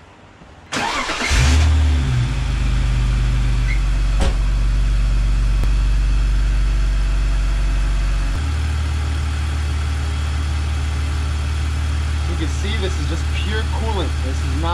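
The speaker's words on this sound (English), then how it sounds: "I'm gonna go turn the car on real quick." A BMW E46 wagon set up for drifting cranks and fires up after cooling system work, a short starter whirr then a loud rev settling into a steady low idle that drops in pitch partway through, heard close up.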